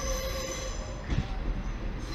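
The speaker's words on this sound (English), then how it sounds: "Ugh, another Pacer train." A class 142 Pacer train rolls steadily past at Manchester Piccadilly station with a continuous rumble, high metallic wheel squeal ringing over it and a brief louder surge of noise midway.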